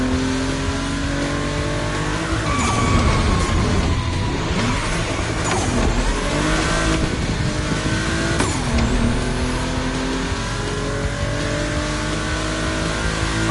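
Two Volkswagen cars from a personal collection race on a track, engines roaring and revving close by, with gear changes and faint tire squeal running through a constant loud drone.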